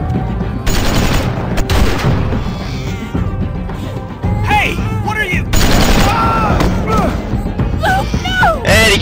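Bursts of gunfire crack out in The Walking Dead Season 2 game, several loud shots and rapid volleys mixed with shouting, groaning voices and a tense musical score.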